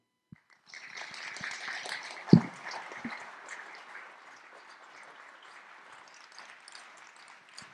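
An audience applauds to welcome watchmaker Kari Voutilainen onstage at an evening talk, a sustained wash of clapping that starts abruptly, peaks early with one sharp thump, then settles into steady, moderately loud applause.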